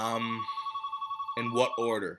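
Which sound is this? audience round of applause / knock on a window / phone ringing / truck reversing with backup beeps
phone ringing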